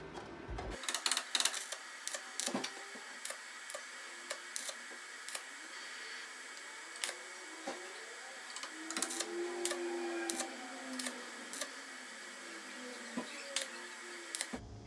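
Stick welding on rusty automotive bodywork, the electrode crackling and popping in short irregular bursts against a steady background hiss, with scattered sharp clicks and ticks throughout.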